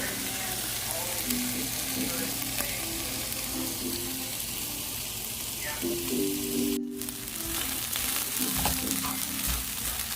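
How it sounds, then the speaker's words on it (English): Onions sauteing in a pan give a steady, soft crackling sizzle throughout, with occasional stirring clatter and a faint background hum. "sauteing the onions down as well"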